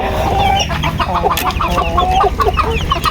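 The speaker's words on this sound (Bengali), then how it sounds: "এই যে এই দুইটা হাসে মোরগ" Chickens and two ducks clucking close by in quick, irregular bursts, several birds at once, with no talking.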